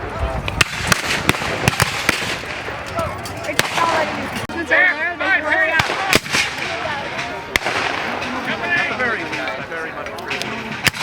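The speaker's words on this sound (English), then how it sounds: "Here comes the Confederate artillery!" Confederate artillery booms at a Civil War reenactment, sharp repeated blasts scattered through a busy outdoor crowd scene with people talking and calling out over the fire.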